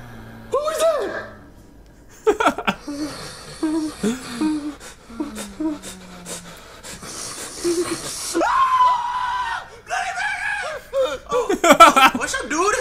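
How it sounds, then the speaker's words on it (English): A cartoonish morning scream from a puppet character in an SML comedy, mixed with chuckles and other animated voice sounds, loud and close, with speech around it. "What was that scream? Oh, that's my morning scream."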